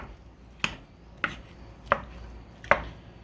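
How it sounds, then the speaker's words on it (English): Four crisp knife chops on a cutting board, spaced evenly about every two-thirds of a second, as vegetables are cut up for Mexican quinoa; close and clear with no talk. "Just kind of chop this up."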